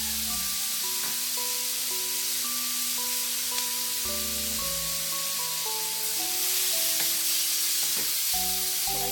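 Chicken sautéing in a pan for chicken adobo, a constant bright sizzle running underneath a melodic music track for the whole stretch.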